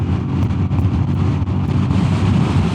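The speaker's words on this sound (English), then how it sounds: "Let's see if there's less wind in this direction." Steady, loud buffeting wind roar with heavy low rumble fills the whole stretch, caught while riding a Royal Enfield Classic 350 motorcycle, with a few brief dips in the gusting.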